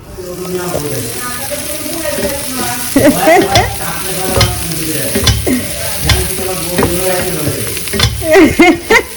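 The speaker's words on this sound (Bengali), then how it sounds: "এখন সরিষার তেলে এটাকে ফ্রাই করে নিব" Food frying in hot mustard oil with a steady sizzle, broken by repeated scraping and stirring clatter; faint voices murmur in the background.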